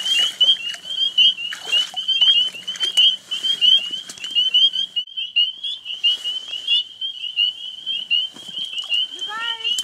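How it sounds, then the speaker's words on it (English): Spring peepers, tiny frogs, call in a dense chorus at night, with many high, piercing peeps overlapping steadily and loudly, plus scattered rustles and thumps nearby. "the sounds that we're listening to right now, they're spring peepers, and these sounds are made by tiny little frogs"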